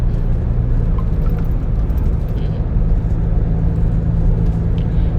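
Steady, continuous road rumble and engine drone from a car travelling along a road between Bueng Kan and Nong Khai, loud and close, with a faint voice talking over it.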